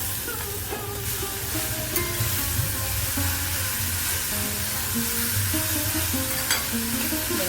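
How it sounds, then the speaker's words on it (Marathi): Grated beetroot sautés in a pan for beetroot halwa, giving a continuous close sizzle broken by the soft scrape of stirring. "किसलेलं बीट टाकते मी ह्या सुपामध्ये आणि जरा परतून घेते चांगलं"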